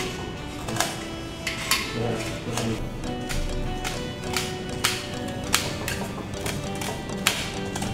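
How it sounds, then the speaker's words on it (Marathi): A knife chops fresh coriander on a cutting board while preparing khichdi, giving a steady run of crisp, close taps at a quick, even rhythm, with no one talking. "अगोदर आपण कोथिंबीर कापून घेऊ मस्त थोडी"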